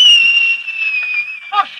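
A person whistles one long, loud, sustained tone that glides slightly downward, then breaks off into a short burst of voice near the end.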